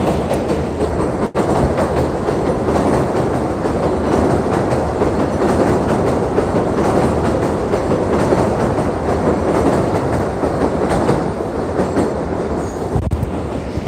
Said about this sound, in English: Those of y'all, that's the 4 train.